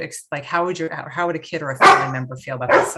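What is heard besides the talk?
dog barking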